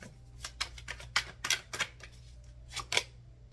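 Tarot cards being shuffled by hand, a run of soft papery riffling bursts, about ten in quick uneven succession, close and fairly quiet over low steady room hum.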